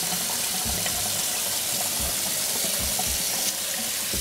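Tap water runs steadily into a kitchen sink while a whole chicken is rinsed inside and out, a close, continuous splashing gush with faint bumps of handling.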